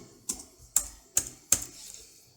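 The Enter key on a computer keyboard is pressed four times in a row, each a sharp, close click with short pauses between, in an otherwise quiet room.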